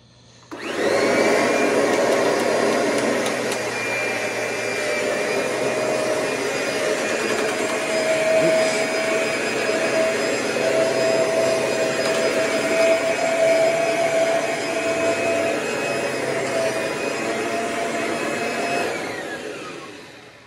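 A Kirby G6 vacuum cleaner starts up and runs for about twenty seconds with a loud, steady whining roar, close by, then shuts off at the end.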